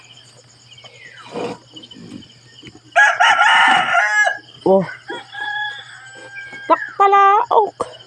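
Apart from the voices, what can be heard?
rooster crowing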